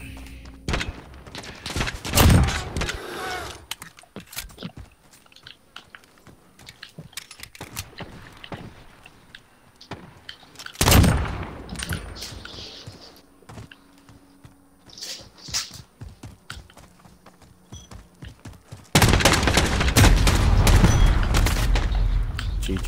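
Pistol shots in a Modern Warfare pistols-only match come in scattered sharp bursts, some loud and close, others fainter, mixed with players talking and a dense loud stretch near the end.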